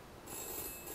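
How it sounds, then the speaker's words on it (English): A telephone rings in the video game We Happy Few, a faint electronic ring with steady tones sounding over a low background hum. "Ah, phone's ringing."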